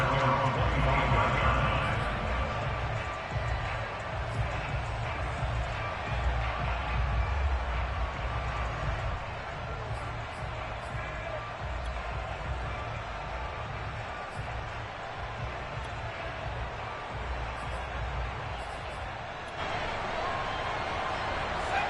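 A football stadium crowd keeps up a continuous cheering roar, louder in the first few seconds and then settling into a broad, steady murmur with slight swells.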